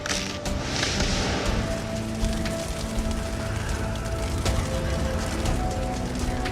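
Hail and wind battering a castle roof, a dense, loud, continuous patter of hard pellets with gusty noise underneath and occasional sharper cracks, steady throughout.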